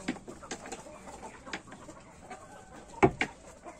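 Roosters squabble and cluck in a farmyard, a series of sharp, fairly close calls and scuffles with a louder burst near the end and no talking.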